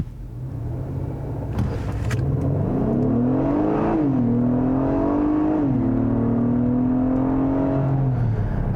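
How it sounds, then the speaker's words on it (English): A 2022 Acura MDX A-Spec with its standard J35-series V6 launches hard from a stop, the engine note climbing strongly with two quick gear shifts before settling into a steady, smooth pull. "We'll try a little launch here."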